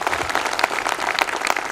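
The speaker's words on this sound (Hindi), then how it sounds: "एक बार डायरेक्ट सेलिंग और MLM मार्केटिंग के लिए एक बार जोरदार ताली होनी चाहिए" Short burst of loud, close applause from an audience at a direct selling and network marketing function in Malkapur, dense overlapping hand claps throughout.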